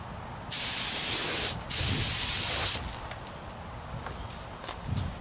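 Spray gun hissing as paint is laid onto a car fender, two strong sustained bursts of about one and one second with a short break between them, close and loud over a quiet shop background.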